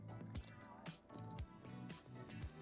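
Salty marinade is poured over venison strips for jerky, a faint liquid pouring and dripping with a few soft splashes in a quiet kitchen.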